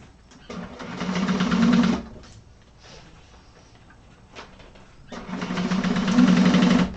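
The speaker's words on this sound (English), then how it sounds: "Just make sure you're only sewing through the 2 layers." Sewing machine stitching through two layers of bag lining in two loud steady runs of rapid whirring, separated by a quieter pause with faint handling sounds.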